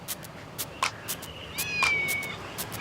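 A cat meows a few times in short, thin calls over quiet background with light tapping sounds.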